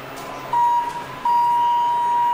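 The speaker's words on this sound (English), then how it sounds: "There's the down chime." A ThyssenKrupp Signa 4 elevator at San Diego Mesa College sounds its down chime, two clear, steady electronic tones, the second held on, heard close over faint background hum.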